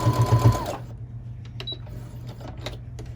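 A sewing machine backstitches along a thick tote bag seam, giving a quick rattling run of stitches that stops after under a second. A few faint clicks and handling noises follow in a quiet room.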